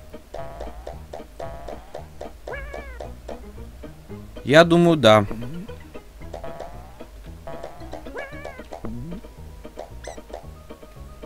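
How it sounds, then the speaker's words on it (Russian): Squeaky, chirping cat meows from an NES video game sound repeatedly over bouncy chiptune music, with a louder burst midway and someone talking over the game. "Тупые коты."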